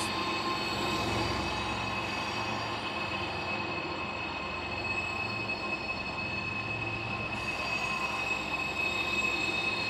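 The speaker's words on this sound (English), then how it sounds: "Look at those trains chug." Trains roll along the rails of a busy rail yard with a steady, loud rumble and a persistent high metallic wheel squeal running throughout, with no talking.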